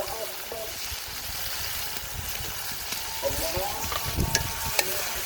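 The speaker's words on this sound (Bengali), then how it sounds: "মশলাটা খুব ভালোভাবে কষিয়ে নেই" Spiced paste of chili powder, coriander powder, salt, ginger and cumin paste sizzles steadily in hot oil while being stirred in a village kitchen, with speech and scraping over the frying.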